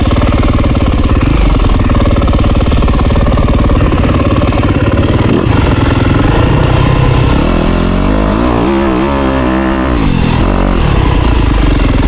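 A dirt motorcycle engine accelerates hard in second gear on a trail, a loud, close, continuous roar with rising revs toward the end.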